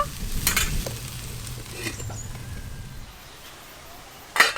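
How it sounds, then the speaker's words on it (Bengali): Susni greens being stirred as they fry in a pan, a soft sizzle with scraping spoon strokes that fade after a few seconds, ending in a sharp clatter. "দেখুন নাড়তে নাড়তে অনেক কমে গেছে।"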